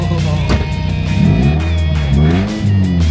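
A Toyota MR2 fitted with a spiral resonator exhaust revs up and down close by during a test drive, its full, throaty engine note rising and falling in smooth sweeps.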